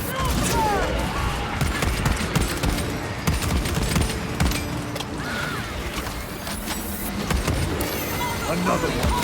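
Rifle fire in a Warhammer 40K shooter, a weapon like an M1 Garand: repeated sharp cracking shots at an irregular, fairly quick rhythm amid mechanical clatter and battle noise, with someone talking over parts of it.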